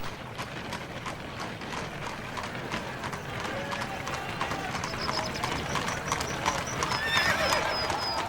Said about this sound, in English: the horses suddenly stopped in front of the main prison